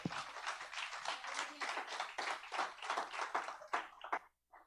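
Continuous applause from a church congregation, a dense patter of many hands clapping for several seconds before tapering off near the end.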